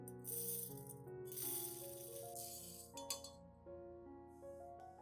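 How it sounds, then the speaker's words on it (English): Dry rice grains pour into a container in several bursts of rattling patter, heard over soft background music. "Use 2 tablespoons of rice."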